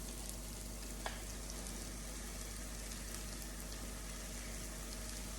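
Peppers sizzle steadily in a pan of rendered bacon fat with onions, a dense even crackle of frying that continues without a break and has no voices over it.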